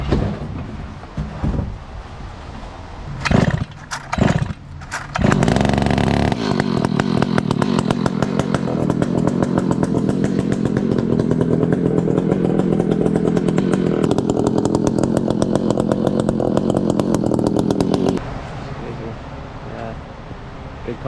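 Chainsaw cutting through a huge fallen 400-year-old fir, starting with a few short revs and then a long loud continuous cut that drops away near the end, with wind noise around it.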